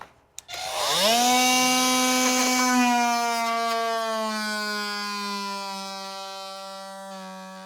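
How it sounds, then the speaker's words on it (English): A multi-tool cutting the edges off a fibreglass moulding for a boat's steering bulkhead, a loud high-pitched motor whine that winds up after a click and then holds steady while cutting, slowly easing off, with no talking. "a multi-tool right there, so we can cut the edges off"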